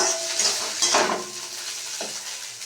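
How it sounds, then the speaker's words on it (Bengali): Small kachki fish fry in a pan on a home stove, a steady sizzle with a few stirring scrapes and clinks of utensil against the pan, close and alone. "কাচকি মাছ ভাজা হচ্ছে।"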